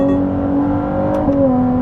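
Ferrari 296 hybrid supercar with its V6 engine and electric motor, heard as a close, steady engine drone with tonal whine that shifts pitch slightly as revs change, alone without talk.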